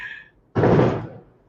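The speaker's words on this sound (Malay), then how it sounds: "itu bunyi mercun." Firecrackers go off outside a house, heard as a single loud, broadband bang that fades over about half a second, just after a brief higher-pitched tone.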